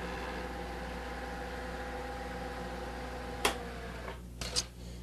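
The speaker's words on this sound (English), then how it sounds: "Have a nice smooth feed rate as we cleave off that little chamfer across the top of the part." Milling machine cutter beveling a chamfer across the top of a part held in a V-block, a steady low mechanical hum with a few sharp clicks and knocks near the end, faint and without voices.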